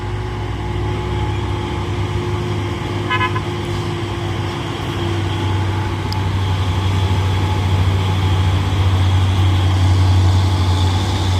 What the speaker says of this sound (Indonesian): Nah, ini ada truk box.